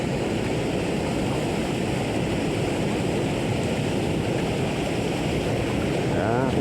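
Strong, fast river current rushes steadily and loud near the listener while fishing for tilapia over rocks, a dense continuous wash with no break.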